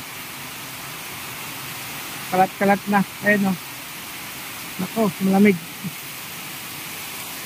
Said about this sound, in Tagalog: Sobrang ulan na.